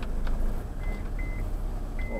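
Car handbrake-on warning chime, a few short faint electronic beeps inside a moving car over low engine and road rumble.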